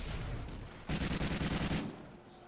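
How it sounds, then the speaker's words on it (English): Gunfire in the Call of Duty Ghosts Extinction video game: after a stretch of low rumbling, a rapid automatic burst of about a dozen evenly spaced shots lasting around a second, moderately loud, then fading back to background noise. "it's shooting me. Shooting me."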